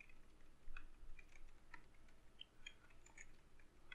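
Soft, quiet computer keyboard keystrokes tap out an email ID in an irregular rhythm of single clicks and short runs, with a low background hiss beneath.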